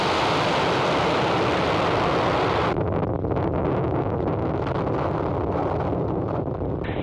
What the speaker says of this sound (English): ignition, and liftoff of Falcon 9